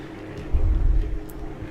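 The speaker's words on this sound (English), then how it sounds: "As you can hear, there is an engine brake on this" A low, rumbling engine-brake drone from a tractor in Farming Simulator 19 swells briefly in the bass and then settles back into a steady, muffled engine hum.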